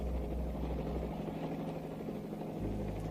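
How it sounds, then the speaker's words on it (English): Steady low droning rotor hum of military helicopters hovering overhead above shops and homes, continuous and fairly loud throughout with no talking. "see the military helicopters hovering constantly above the shops and homes"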